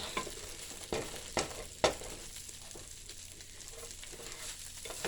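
Beef fried rice noodles being stir fried in a pan, a soft continuous sizzle punctuated by several sharp utensil knocks and scrapes in the first two seconds, then quieter stirring.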